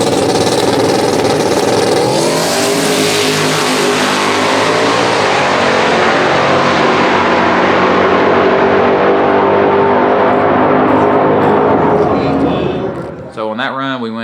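A drag race car with a CO2-controlled boosted engine roars through a quarter-mile pass, a long, loud, sustained engine note that rises in pitch, then cuts off abruptly near the end.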